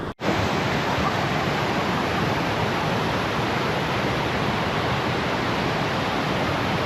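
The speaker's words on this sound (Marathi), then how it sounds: "हा काळ मांडवी जो वॉटरफॉल आहे हा 12 महिने चालतो हा" Kalmandavi waterfall near Jawhar pours in a steady, loud, unbroken roar that fills the whole clip from the first instant, with no voices over it.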